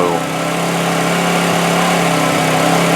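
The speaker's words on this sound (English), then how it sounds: "Lovely generator, lovely engine." A generator engine runs at a steady idle, a continuous close, loud hum with a low droning tone and no breaks.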